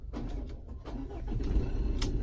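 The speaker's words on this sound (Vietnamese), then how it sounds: "Ok, máy đã nổ." A 2016 Mazda BT50 2.2 diesel pickup cranks and fires up, its starter whirring briefly before the engine catches and settles into a fairly smooth, close diesel rumble that grows slightly louder.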